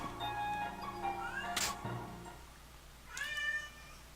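A cat meows in the Radiant Historia video game, a drawn-out meow and a sharp whip-like crack, then a second rising meow, all clear and close with no speech.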